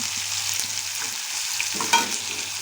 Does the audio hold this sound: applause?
no